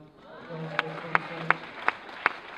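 A comedy show audience at The Howard Theatre claps hands in a few sparse, separate, fairly faint claps spaced about a third of a second apart, while a voice hums along underneath.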